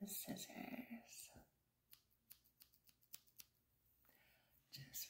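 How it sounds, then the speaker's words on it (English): Soft, close-up scissor snips during a haircut in a quick irregular series, quiet and crisp, with whispered talk at the start and end. "Scissors."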